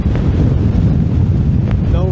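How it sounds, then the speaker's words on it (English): A strong gale at the seafront by the Cenotaph buffets the microphone with loud, rumbling gusts and a faint voice underneath. "it's a bit windy. Still blowing a gale"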